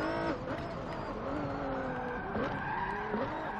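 A 700HP twin-turbo minivan in the racing game Forza Motorsport 7 brakes hard, its tires squealing in drawn-out, wavering skids over a loud engine.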